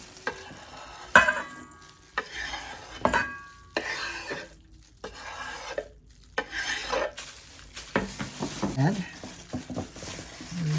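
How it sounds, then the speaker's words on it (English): Chopped onions are stirred in a pan for Swedish meatballs, with irregular scraping and clinking of a utensil against the pan over a light sizzle, broken by pauses and a brief cough. "to this I'm going to add some chopped onions."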